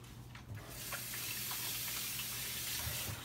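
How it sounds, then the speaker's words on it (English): Running tap water streams steadily into a sink as hands are washed during pepper steak preparation, a continuous soft rush from start to end at low level with no voices. "Wash my hands."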